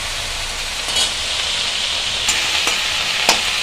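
Red amaranth greens fry in a pan with a steady, loud sizzle, punctuated by a few sharp scrapes as they are stirred.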